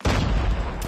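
A slow, powerful sniper rifle fires in a first-person shooter video game, one loud booming shot that fills the moment with a long, dense tail.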